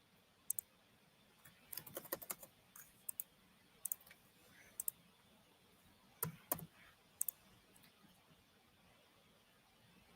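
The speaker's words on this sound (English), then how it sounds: "I was typing Betty's name into Google." Typing on a computer keyboard, scattered clicks and short bursts of keystrokes over a quiet room hiss, faint and intermittent with pauses between clusters.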